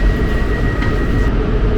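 A continuous low rumble of a train passing through a station in Ghent, Belgium. It stays steady and fairly close for the whole short stretch, with no one talking.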